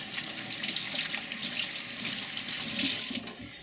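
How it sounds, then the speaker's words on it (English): Tap water runs steadily into a sink while someone washes their hands in a home kitchen, a close, continuous hiss with no voices. "Excuse me while I wash my hands."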